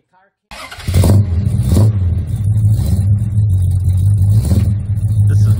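1969 Plymouth GTX big engine idling loudly and lopey up close as the car backs off a trailer, a burst of revs after a brief silence, with voices mixed in.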